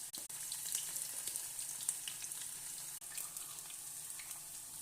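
Cauliflower pakoda frying in hot oil, a steady dense sizzle with crackling bubbles throughout, close and continuous with no voices.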